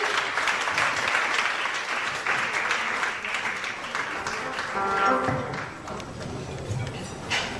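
Sustained crowd applause with scattered cheers at a church ministry's tenth anniversary celebration, steady and fairly loud throughout, with a few voices rising above the clapping.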